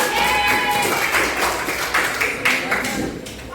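A class claps for group 1 in a school lesson: a dense, continuous patter of hands in a small room, loud and close, with voices talking over the clapping.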